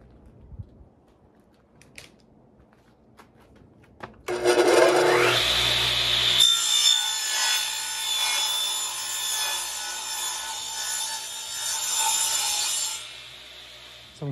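Wood being cut for a sleeper PC build, with a steady, loud, rasping saw noise that starts abruptly after a few quiet seconds of small handling sounds and continues close up to the end.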